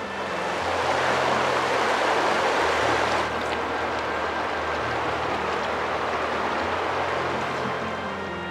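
Steady broadband rush of water flowing along Big Creek in Arkansas, continuous and fairly loud with a low rumble underneath, no voices.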